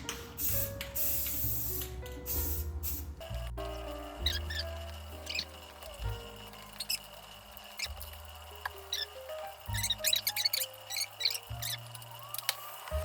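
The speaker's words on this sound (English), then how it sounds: "I don't want to get any spray on this cabinet." Short hissing bursts of aerosol spray paint come in several quick sprays, with a low humming tone and clicks in the background.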